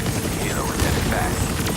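A helicopter in The Division Resurgence video game whirs in a loud, continuous drone, with sweeping tonal shifts and scattered mechanical noise layered over it.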